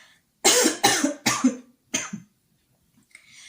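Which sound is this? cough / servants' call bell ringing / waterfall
cough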